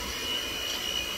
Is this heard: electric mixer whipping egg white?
yes